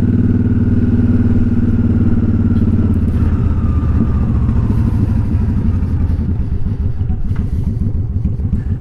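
A Honda Shadow motorcycle engine running on choke as it warms up, a loud, steady close-up rumble that roughens and pulses unevenly partway through, with no talking.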